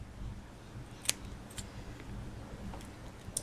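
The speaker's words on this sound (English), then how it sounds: "Now you just want to cut off the excess." Scissors snip off the excess rubber band on a homemade slingbow, with one sharp cut near the middle and a few fainter clicks around it, close by over quiet room noise.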